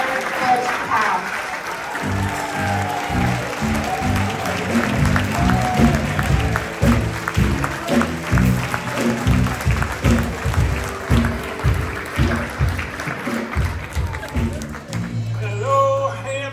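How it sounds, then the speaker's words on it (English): An audience applauds an award recipient, the 2025 Legacy Builder Mr. Butch Powell, at a Hampton event; steady, full clapping fills the hall for over ten seconds, with music and voices mixed in and someone speaking as it ends. "Everyone, please give a round of applause to our 2025 Legacy Builder, Mr. Butch Powell."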